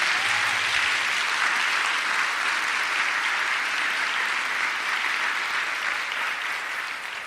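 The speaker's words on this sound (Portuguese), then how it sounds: "Então aplauda a Nossa Senhora aí, porque eu quero ver você aplaudindo ela." Audience at a Catholic talk about Our Lady applauding, a dense, sustained burst of clapping from a large crowd that holds steady and only slightly fades toward the end.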